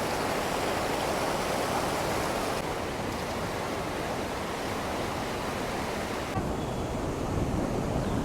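Godavari river water pours over a rubber dam beneath a bridge, making a loud, constant rushing roar with no break throughout.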